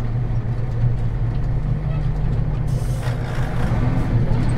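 A bean mill truck engine rumbles loudly and steadily during a soybean harvest, with a low drone that shifts as gears are downshifted and a brief hiss of air partway through.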